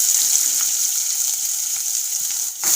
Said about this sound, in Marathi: लगेच आपण बारीक चिरलेला कांदा याच्यात घालून घ्यायचा आहे